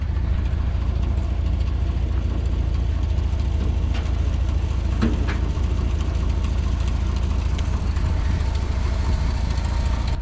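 The engine of a 1990 Dodge Power Ram truck idles steadily with a low, continuous rumble. It is close and fairly loud, with a few faint clicks over the drone and no talking.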